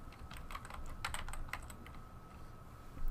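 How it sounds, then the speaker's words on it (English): Fingers type on a computer keyboard at a desktop, a quick, uneven run of close, crisp key clicks with a short pause before a final louder cluster, with no voices. "I can type whatever it is that I'm writing about here for this particular document"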